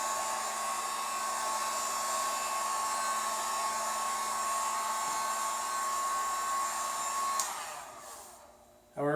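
A heat gun blows steadily at close range while warming and shrinking vinyl wrap on a BMW K1600GTL motorcycle, a constant whooshing hiss that runs for several seconds and then cuts off near the end.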